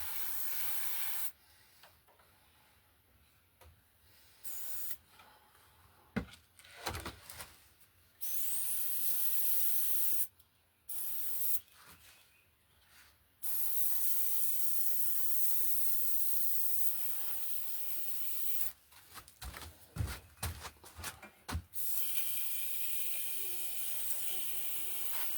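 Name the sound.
airbrush spraying paint on plaster and foam wall hanger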